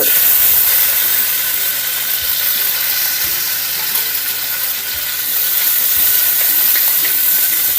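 Cashews and raisins fry in a pan with a loud, close, continuous hissing sizzle that stays even throughout.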